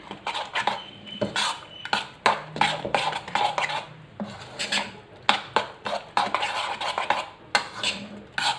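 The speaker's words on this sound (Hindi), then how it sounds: "इसलिए मैं इसमें 1 अंडा और शामिल कर रही हूँ और इसको भी हम इसमें मिक्स कर लेंगे" Egg being mixed into a vegetable batter in a bowl with a spoon, giving repeated scraping and clinking strokes against the bowl in an uneven rhythm, close and fairly loud, with no talk.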